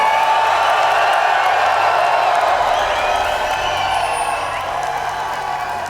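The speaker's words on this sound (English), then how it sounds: "let me hear you guys in the audience." An arena crowd at a League of Legends match cheers and roars steadily, loud and sustained, slowly fading toward the end.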